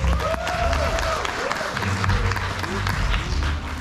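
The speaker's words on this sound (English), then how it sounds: "Can we give them a round of applause?" Audience applause at a theme park animal presentation: steady, dense clapping filling the whole stretch, with a few whistling, tonal calls riding over it.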